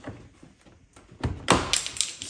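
Trim clips on the front door card of a VW Touareg 7P pop loose as it is pried off, giving a couple of sharp, close plastic snaps after a stretch of quiet handling noise.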